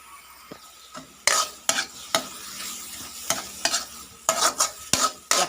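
Squid tentacles stir-fried with green chili in a hot pan, with a steady background sizzle broken by a dozen sharp, irregular scrapes and clanks of the utensil against the pan, close and loud, with no talking.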